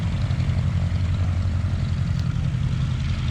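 Steady low drone of an Avro Anson aircraft's propeller engine idling nearby, a continuous throbbing rumble with no pauses.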